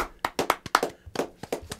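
A small audience applauds at an interview show, about a dozen distinct claps in an uneven rhythm, close and fairly loud.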